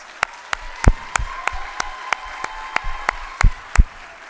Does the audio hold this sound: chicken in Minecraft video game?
no